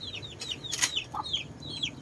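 Two Shamo Tanaka chickens, a bit over three months old, cluck inside their cage. A handful of short, quiet clucks come in a loose rhythm over faint background noise, with no talk.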